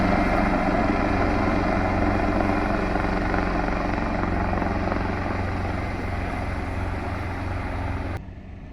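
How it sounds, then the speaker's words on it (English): A helicopter drones steadily overhead along the coast at Kingsdown, Kent, its thudding rotor and engine loud and continuous before cutting off abruptly near the end. "that helicopter's along there now"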